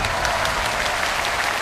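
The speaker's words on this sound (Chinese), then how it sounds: "掌声鼓励一下。" A studio audience on a Chinese TV talent show about a sudoku challenge claps in sustained, dense applause that stays steady and loud throughout, with no voices over it.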